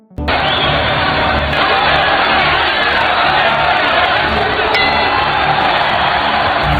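A dense arena crowd roars and cheers continuously and loudly as a fighter walks into an MMA ring, the wall of voices steady from start to finish and ending abruptly.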